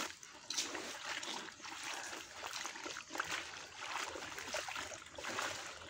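Water sloshes and splashes steadily as a freshly dyed cotton saree is rinsed by hand, a continuous close, moderately quiet wash.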